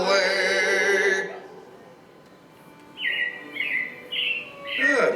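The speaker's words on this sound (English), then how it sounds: "it looks like the Robins are getting ready to celebrate Valentine's Day today" Recorded robin chirps in the Carousel of Progress show at Magic Kingdom, Walt Disney World: after music fades, three or four bright, repeated trilling chirps ring out in short bursts, fairly close and clear.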